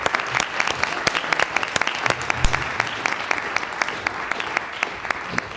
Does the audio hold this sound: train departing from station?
no